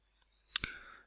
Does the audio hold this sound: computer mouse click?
yes